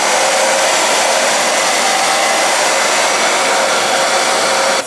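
A hair dryer blows heat onto a lace frontal wig, a loud steady rushing airflow with a faint whine, continuous and close with no talk.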